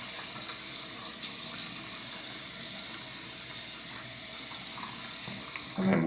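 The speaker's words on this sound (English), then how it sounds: "Let's get some warm water on the face." Water runs steadily from a tap, warm water for wet shaving, a continuous close splashing stream with a brief extra splash near the end.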